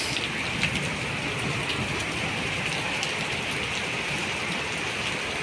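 Heavy rain pours down in Jeddah, Saudi Arabia, a steady dense hiss of drops striking surfaces with no pauses, close and enveloping.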